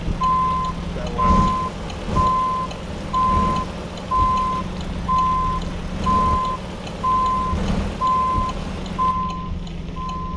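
Steady reversing beeps from an American Truck Simulator Mack Pinnacle truck backing up, a regular one-second alarm over a low engine rumble, close and continuous.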